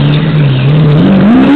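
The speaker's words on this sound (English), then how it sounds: "Why would you accelerate on this small road?" A Lamborghini Aventador supercar accelerates hard along a small road, its loud, close engine note rising steadily in pitch as it revs up, with no voices over it.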